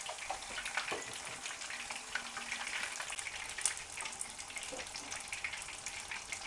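Thin pieces of fish frying in hot oil in a home kitchen, a steady close crackling sizzle with scattered pops and spits throughout, no voices.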